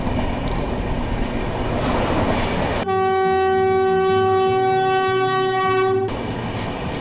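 The Ratnachal Express passenger train overtakes close by on the rails with a heavy, loud rumble, and a long, sustained horn blast sounds in the middle before the rolling roar resumes.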